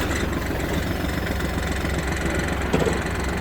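A used mini tractor's engine runs at a steady, throbbing idle just after starting, loud and close, with a slight knock at the end and no voices.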